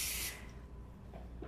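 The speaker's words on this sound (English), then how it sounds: "I'm gonna spray my pan" A short, bright hiss of cooking spray onto a pan lasts about a third of a second, followed by quiet kitchen background.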